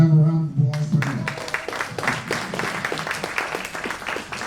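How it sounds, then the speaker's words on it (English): An audience applauds at a college jazz band concert, dense, fairly loud clapping that starts abruptly after a brief voice and carries on steadily. "have a round of applause for that"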